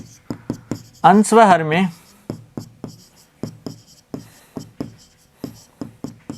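Chalk or marker taps and scrapes from a teacher writing fractions on a classroom board, a steady series of short sharp strokes running throughout, with a brief burst of talk near the start.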